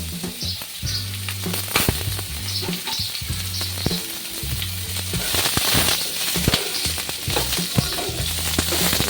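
Two dried red chillies, bay leaf and whole fenugreek seeds fry in mustard oil for a bottle gourd shukto, giving a loud, close sizzle peppered with sharp pops and crackles, with stirring throughout.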